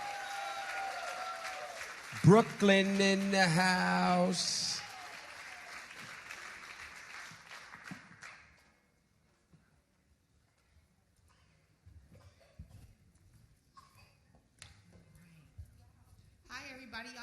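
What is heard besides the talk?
audience applause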